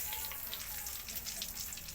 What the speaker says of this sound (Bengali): তেজপাতা লাল লাল করে ভাজা হয়ে গেছে